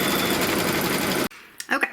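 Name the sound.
Kimberbell embroidery machine stitching a seam line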